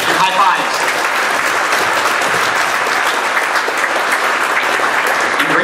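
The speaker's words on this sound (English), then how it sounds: "round of applause" A crowd at the BruCON security conference applauds at the close of a talk, a loud, sustained, crackling wall of many hands clapping that holds evenly throughout.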